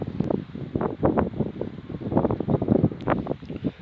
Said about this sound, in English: Just hopefully this isn't too unpleasant with the wind.